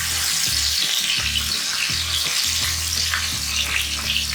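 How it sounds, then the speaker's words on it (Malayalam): Marinated chicken fries in hot oil in a pan for biryani, sizzling loudly and steadily with brief stirring scrapes and no talk. "ചിക്കൻ നല്ലവണ്ണം ഫ്രൈ ചെയ്തെടുക്കുക"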